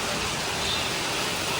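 Heavy rain falls in a thick, unbroken roar during a hailstorm, loud and close throughout, with no talking.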